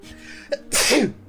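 A single close, sharp human sneeze, a short inhale and then an explosive burst, in a quiet room.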